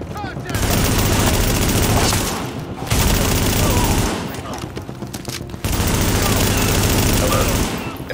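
Gunfire in the video game The Division, sustained bursts of rapid automatic fire and explosions in a station, loud and continuous with brief pauses between volleys.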